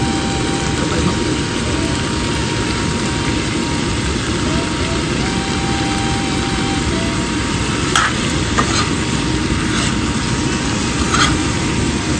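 Shrimp stir-fried with Thai roasted chili paste as basil goes in, a steady loud broadband sizzle and hiss filling the pan throughout, with a few faint metallic spatula clinks near the end.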